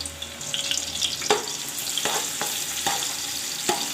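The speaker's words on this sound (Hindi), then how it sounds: "और प्याज को फ्राई कर लेंगे।" Two medium onions, sliced, frying in hot oil in a pot, a steady crackling sizzle with a few sharp clicks of spoon or pot, close and moderately quiet.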